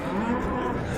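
A cow lows once, loud and close, at the Tokmok livestock market in Kyrgyzstan.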